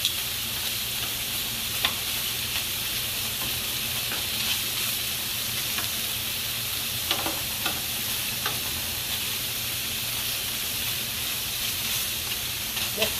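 Sausage with peppers and onions sizzles steadily in a pan, a dense, even frying hiss that holds throughout with occasional faint pops and stirring clicks.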